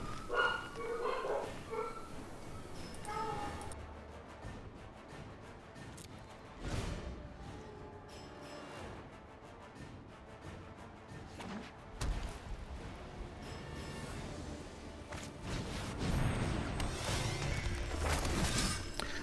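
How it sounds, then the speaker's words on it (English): Dogs barking in excited, scattered bursts in a room, some loud close yaps and thuds mixed with fainter barks, continuing over a steady background of game audio. "My dogs, for whatever reason, have decided they're going to go berserk"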